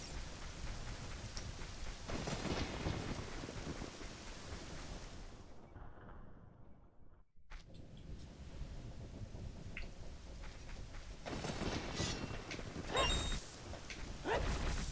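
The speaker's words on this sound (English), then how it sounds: "I love how it kind of builds this ominous atmosphere with all the heavy rain and the lightning" Heavy rain pours steadily in the graveyard area of the video game Zelda Ocarina of Time during a thunderstorm. A brief near-silent dip breaks the downpour, then a sharp crack of thunder sounds and the rain returns at full force.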